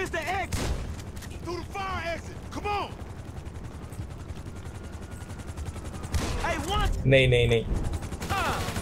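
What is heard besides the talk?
gunfire in the video game GTA V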